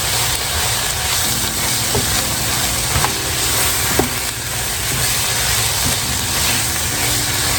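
Chicken pot pie spaghetti filling sizzles and hisses steadily in a hot pan while a spoon stirs it, with a few soft scraping clicks over the constant frying noise.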